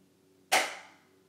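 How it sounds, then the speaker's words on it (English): A single drum downstroke, struck from about nine inches down to set position, gives one sharp close hit with a quick decay, alone in quiet. "The first stroke type, a downstroke, starts high and ends low."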